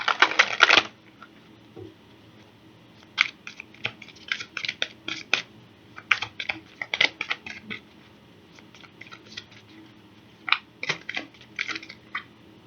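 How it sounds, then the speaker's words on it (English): Repeated bursts of crisp tarot card riffling and snapping, a quick flurry at the start then several shuffles in clusters with short pauses between, close by. "I shuffled this deck really good"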